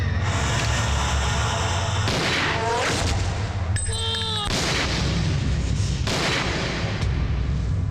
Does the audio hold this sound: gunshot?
yes